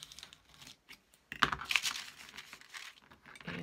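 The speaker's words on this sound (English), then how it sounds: "with my X-Acto knife or any kind of cutting tool that you want to use, I cut it down." An X-Acto knife cuts through three layers of junk mail cardboard, making close, crackly scraping and crinkling strokes in irregular bursts, with a brief pause before the louder cutting resumes.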